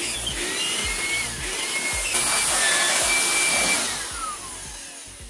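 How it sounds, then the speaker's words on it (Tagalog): A handheld air blower pushes dust out of an opened Acer Swift 3 laptop during a keyboard replacement, a loud steady rushing hiss with a thin whistle that swells and then tapers off near the end. "i-blower muna natin para matanggal yung mga alikabok."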